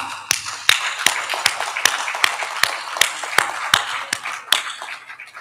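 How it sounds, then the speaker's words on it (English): Sparse, distinct claps from an audience at a live awards ceremony in Doha, about fifteen crisp hand claps in an uneven, slowish rhythm, close and fairly loud with little else around them. "I will wish the audience to clap for them for what they have been doing."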